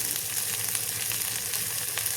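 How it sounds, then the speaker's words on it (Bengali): Onions and capsicum sizzle steadily in hot oil in a pan, a close, continuous crackling fry with no voices. "তেল গরম হয়ে গেছে, দিয়ে দিচ্ছি পেঁয়াজ, সাথে দিয়ে দিচ্ছি সিমলা"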